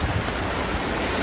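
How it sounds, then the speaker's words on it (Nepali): Clear water of the Aduwa river rushes in a steady, broadband wash with a slight windy texture, continuous and fairly loud throughout. "यही हो नि अदुवा खोला, यहाँ हेर्न सक्नुहुन्छ कस्तो सङ्लो छ"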